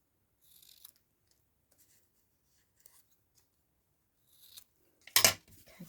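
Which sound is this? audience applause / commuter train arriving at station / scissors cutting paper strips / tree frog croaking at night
scissors cutting paper strips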